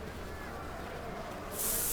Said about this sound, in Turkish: Sık şu spreyi.